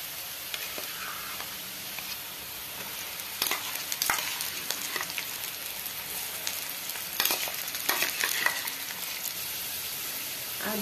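Onions reddened in a pan sizzle together with potatoes, frying and being stirred for an Odia potato chokha. A steady close crackle carries intermittent spatula scrapes and bursts of stirring, with no talking.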